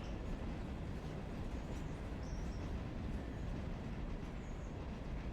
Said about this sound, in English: Look at all those sheath box cars rolling by